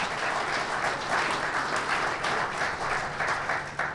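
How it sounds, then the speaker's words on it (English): An audience at a Sarnia Sting hockey team ownership announcement gives a sustained round of applause lasting several seconds, heard fairly faintly with no talk over it. "That deserves a round of applause."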